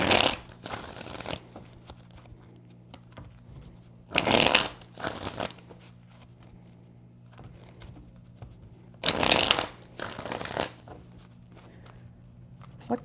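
Tarot deck being shuffled by hand, three separate bursts of riffling cards about four to five seconds apart, close and crisp against a quiet room with a faint low hum.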